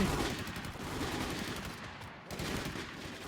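Continuous heavy gunfire in a shooter video game, a dense, steady stream of rapid shots with a brief dip before the firing resumes, fairly quiet and with no voices.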